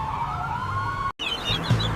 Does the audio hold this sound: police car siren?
yes